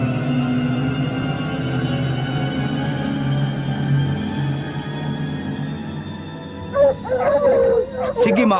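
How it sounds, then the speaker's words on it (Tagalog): Several dogs howl and bark toward the end, their rising cries coming after a stretch of quiet background, with voices speaking during the scene. "Sige, mauna muna kayo mga aso ko."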